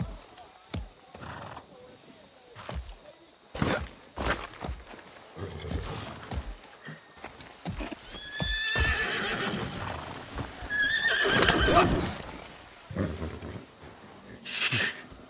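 Horse neighs and whinnies amid clip-clopping hooves in the Far Cry 6 video game, with several bright whinnies in the middle and a rough snort-like burst near the end, all under occasional talk.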